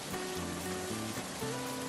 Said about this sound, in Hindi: अरे माधव, तू यहाँ बाहर बारिश में पेड़ के नीचे क्या कर रहा है?